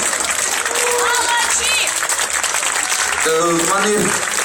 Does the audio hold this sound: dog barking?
no